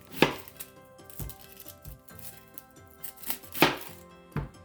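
Onion being chopped with a knife on a board for homemade ravioli, a few sharp separate chops spread irregularly through the clip, close and clear with no talking.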